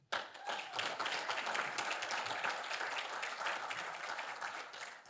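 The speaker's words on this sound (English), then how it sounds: "they also deserve a big round of applause" Audience at an Arab American Heritage Month lunchtime event breaking into a round of applause, a dense wash of many hands clapping that swells quickly and holds steady, slightly distant.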